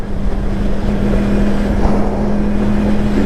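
A Yamaha R1 sport motorcycle being ridden, heard as a steady engine drone with a constant hum and heavy wind buffeting against the microphone, loud and continuous throughout.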